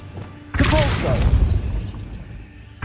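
A Depulso spell cast in the video game Hogwarts Legacy bursts in as a sudden loud booming blast with swirling magical whooshes, then rumbles and fades over a couple of seconds.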